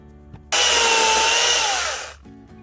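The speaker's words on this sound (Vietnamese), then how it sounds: "Đó là một cái cưa máy dùng một cục pin 18V." A small 18V battery-powered saw of about 300W whirs loudly for about a second and a half, starting abruptly and winding down, with quiet surroundings before and after.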